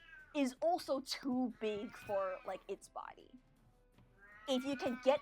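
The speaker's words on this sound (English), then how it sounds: "Sorry for my cat, by the way." A house cat meows repeatedly in the background of a tabletop role-playing session, with drawn-out cries woven around a person's talking.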